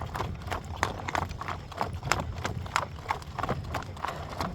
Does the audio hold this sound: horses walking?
yes